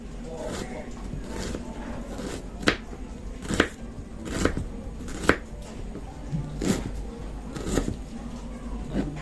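A knife chops garlic and onion on a board for a sweet and sour tilapia dish, with a steady series of crisp, close chopping strikes at an irregular rhythm and soft background noise between them.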